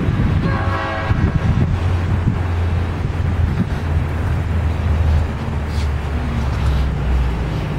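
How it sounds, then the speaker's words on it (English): A long train rumbles past close by, its horn sounding near the start over a continuous low roar of wheels and cars, with heavy wind buffeting the microphone throughout. "Man, how long is that train?"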